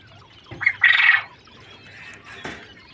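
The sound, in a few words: king quails calling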